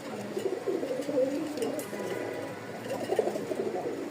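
Breeding pigeons cooing close by, low throaty calls repeating in soft rolling bursts over a quiet background.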